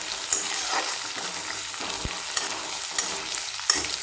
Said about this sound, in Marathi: हा कांदाही आता लालसर परतून घेऊ.